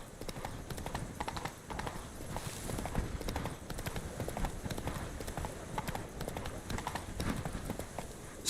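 The horse Roach in The Witcher 3 trots along, hooves clip-clopping in a steady, quick rhythm at moderate distance over a low game ambience, without voices.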